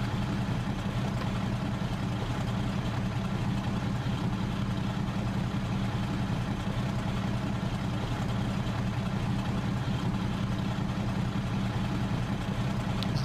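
A propeller aircraft engine idles at about 700 to 800 rpm in a flight simulator game, a Z-43 in FSX, with a steady, low droning rumble and faint rattle, constant and unchanging throughout, with no voices.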